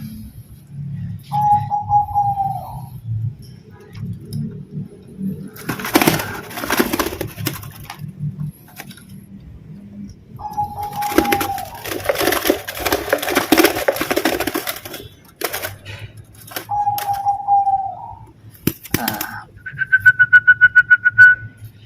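A local wild perkutut, or zebra dove, coos loudly and close in several short bursts separated by pauses. Rustling and handling noises come in between, and a rapid pulsing call ends the sequence.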